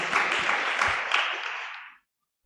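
A sermon audience breaks into a short burst of clapping and applause, dense and fairly close, which fades out after about two seconds.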